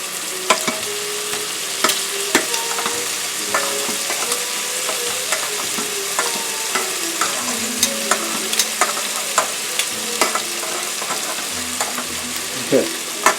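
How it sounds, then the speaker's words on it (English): Shrimp sizzle steadily in a pan as they are turned over, with regular clinks and scrapes of a utensil against the pan punctuating the continuous frying hiss. "I'm going to turn my shrimp over"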